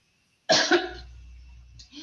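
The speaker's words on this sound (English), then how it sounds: "I'm going to have to cough for a minute." A single sharp cough bursts out after a moment of silence, followed by a short rasping breath and throat sound.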